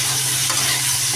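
Pumpkin and potato pieces fry in a hot pan, giving a steady, close sizzle with a light stirring scrape partway through, with no voices.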